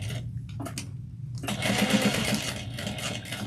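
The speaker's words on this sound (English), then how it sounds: "I'm going to go back stitch." A sewing machine back stitches a seam on a tote bag. It starts and stops in short bursts, then runs steadily and fast, up close and loud, with no talking.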